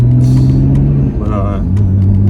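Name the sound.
Nissan R32 Skyline GTR car accelerating on public road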